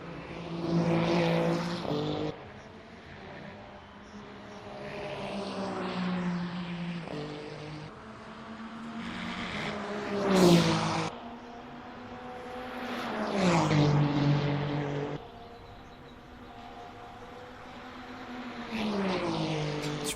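Cadillac hypercar engine in the Le Mans Ultimate racing game, recurring loud revving surges with gear changes and lift-offs over about twenty seconds, no talk.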